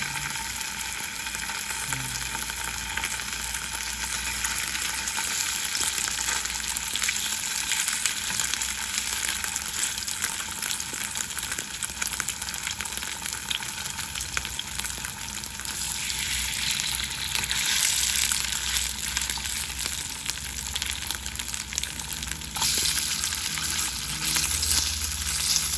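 Salmon belly frying in hot oil in a pan gives a steady, dense sizzle and crackle that stays loud and unbroken throughout.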